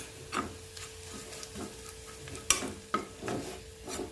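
A spoon stirs a ginger curry mixture frying in a pan, giving soft repeated scraping strokes over a low sizzle, with a couple of sharp clicks against the pan, close and quiet.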